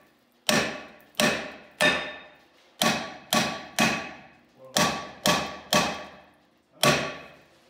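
A hammer strikes a worn brake rotor on a Honda car, ten sharp metallic blows in uneven clusters, each ringing briefly before fading, loud and close with no speech between them.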